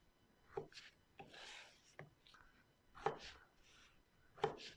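Tomatoes are chopped into large pieces with a knife on a cutting board, five or six distinct, quiet thuds spaced irregularly, close and alone.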